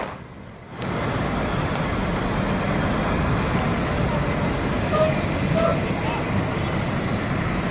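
Steady roadway and engine rumble fills the Pondok Pinang Lebak Bulus bus terminal, a broad continuous hum of buses and traffic with a couple of faint clinks and a voice nearby.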